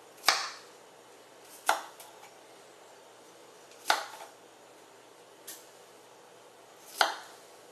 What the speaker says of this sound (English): You want to cut the broccoli into your bite-sized pieces.